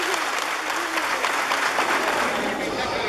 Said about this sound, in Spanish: un fuerte aplauso para nuestra presidenta